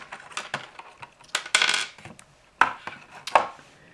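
Small plastic Dice Masters dice tumble out of their packaging, a close burst of clattering and rattling with several sharp clicks and a few louder spills, no voices.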